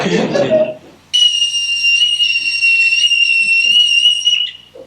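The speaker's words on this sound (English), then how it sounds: "Let's blow that whistle." A brief spoken phrase, then a piercing, sustained whistle blast rings out steadily for over three seconds before cutting off.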